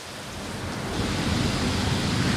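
Heavy rain pouring down during a monsoon downpour in Jammu and Kashmir, a steady, dense roar of rainfall that swells slightly louder after the first second and holds evenly throughout, with no voices.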